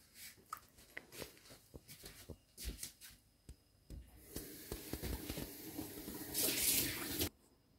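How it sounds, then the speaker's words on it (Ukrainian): Broth poured from a container over cooked meat in a bowl while making Ukrainian cold meat jelly without gelatin: soft splashing and trickling with light clinks, swelling into a steadier pour near the end, quiet and close. "Тепер зальємо бульйоном."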